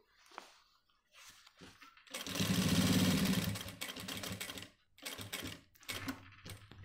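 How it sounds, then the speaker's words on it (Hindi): Sewing machine stitching along the edge of a shirt, a steady mechanical whirring run of a couple of seconds followed by shorter intermittent bursts, fairly close and clear with no talking. "फिर उसके ऊपर ये किनारे पर हमें सिलाई लेनी है।"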